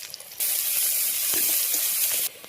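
Cumin and ginger paste hits hot oil in a pan with fried onion and prawns, bursting into a loud, steady sizzle that holds for about two seconds before cutting off abruptly, with no talking.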